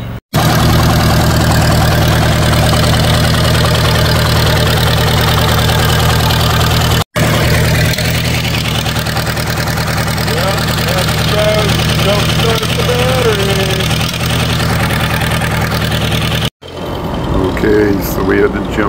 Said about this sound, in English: we're going to try to start up the big mower